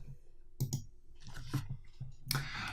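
A few crisp computer mouse clicks, close and quiet, spaced irregularly over a faint steady background hum.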